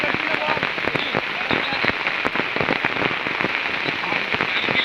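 Heavy monsoon rain pours during a village cricket tournament final in Shirwali, a dense, steady hiss of drops striking the ground with scattered sharper splats throughout.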